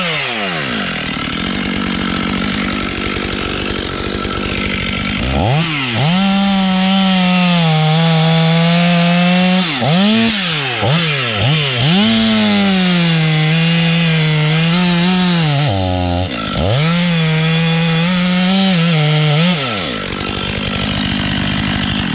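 A chainsaw cuts into a leaning tree, the engine loud and close, bogging and revving repeatedly as the bar bites into the wood, with brief drops in pitch between steady sawing passes.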